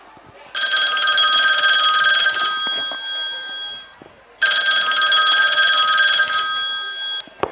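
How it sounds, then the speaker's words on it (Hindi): A telephone bell rings loudly in two long bursts separated by a short pause, close and clear with nothing else over it. "अचानक से फोन की घंटी बजती है"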